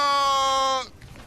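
A cow cries out in Fallout 76 with a single loud, drawn-out bleating call that fades after about a second.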